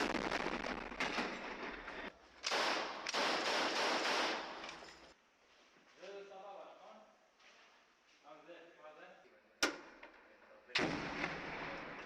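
Mortar fire explosions heard in a broadcast: several loud, sustained bursts of blast noise, then a quieter stretch with a voice talking, followed by a sharp crack and another loud burst.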